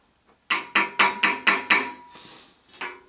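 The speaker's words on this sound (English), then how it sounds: "I've got a rubber mallet here to just hammer it into position." Six sharp, evenly spaced thuds of a rubber mallet hammering a water barrel tower support into position, followed by a softer knock and one more hit, close and fairly loud.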